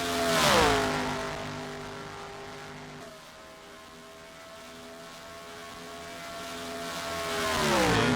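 A race car pulls away from the pit lane during a Cup Series qualifying session, its engine droning with a sweeping pitch that falls, holds steady, then swells again as it passes, loud and close with no voices.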